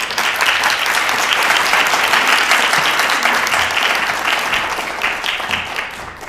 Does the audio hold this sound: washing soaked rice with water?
no